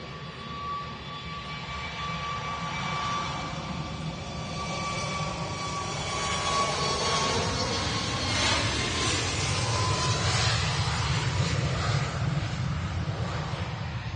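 A Ryanair Boeing 737 MAX 8 jet departs Manchester Airport bound for Palma, its engine whine and roar building steadily at a moderate distance with a shifting tone as it passes.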